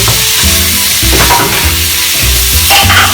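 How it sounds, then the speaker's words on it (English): Beef sears in a hot pan for a simple creamy beef and mushroom dish, with a loud, steady sizzle and a few stirring scrapes punctuating it. "So I'm searing it."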